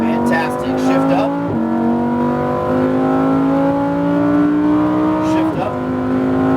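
A Lamborghini Huracan accelerating hard on a race track, its loud engine note climbing steadily with two sharp upshifts that drop the pitch before it rises again, heard close up.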